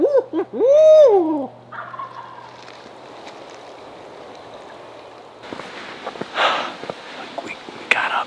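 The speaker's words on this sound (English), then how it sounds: "we ended up getting that bird to gobble" A wild turkey in a field at dusk lets out one loud, rattling gobble right at the start, followed by quiet outdoor ambience with faint rustles and scattered sharp sounds.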